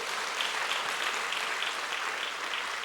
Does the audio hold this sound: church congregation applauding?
yes